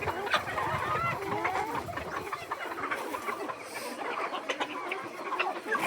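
Siruvidai breed mother hens and chicks cluck and cheep continuously close by, with overlapping calls and a brief distant crow.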